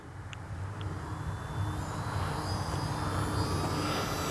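A Durafly Tundra TPX radio-controlled foam plane flies past with a steady electric motor and propeller whine. The sound is continuous and fairly loud and builds slightly, with no talking.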